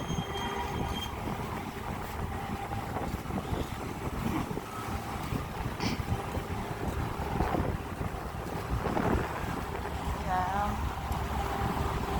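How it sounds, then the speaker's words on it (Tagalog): Strong wind roars and buffets the microphone continuously, a dense rumbling rush with faint background noise and no clear speech. "At saka ang lakas ng hangin."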